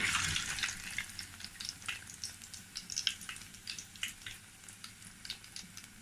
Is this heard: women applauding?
no